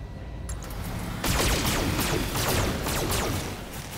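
Mech weapons in the BattleTech PC game fire in a dense volley, a loud continuous barrage of overlapping blasts and impacts with descending whooshing streaks, building after a brief quieter start.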